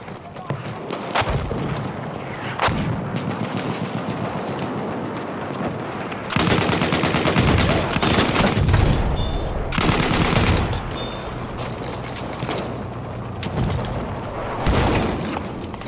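Machine-gun fire in a war game: dense bursts of rapid shots crackle almost nonstop, punctuated by heavier booms and a louder, fuller barrage midway, while voices call out over the battle.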